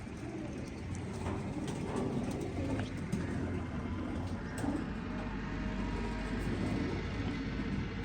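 Teddy pigeons, a pure Teddy pair with white eyes and leg rings, coo softly and repeatedly against a low, steady background rumble.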